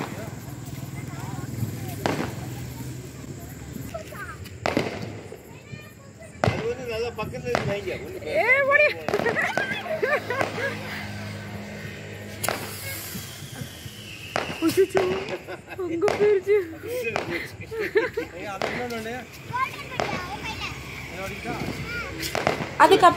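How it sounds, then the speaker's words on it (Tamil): Scattered sharp cracks and bangs of Diwali firecrackers going off all around, some near and some distant, with people talking underneath. "எல்லா பக்கமும் பட்டாசு சவுண்டு தான் கேட்டுட்டு இருந்தது"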